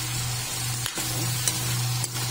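Chicken frying in soy sauce and oyster sauce keeps up a soft, steady sizzle over a low hum. A utensil scrapes through the pan about three times as it is stirred.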